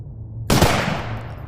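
Single loud gunshot fired in the VR shooter Shotwood VR, a sharp blast with a long decaying tail and a steady low hum underneath, no voice.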